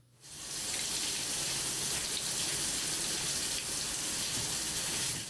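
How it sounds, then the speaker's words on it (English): A shower in a TV show starts up and runs steadily, a loud, even hiss of spraying water that fills the scene after a brief quiet moment. "I would hate that shower. It was awful pressure."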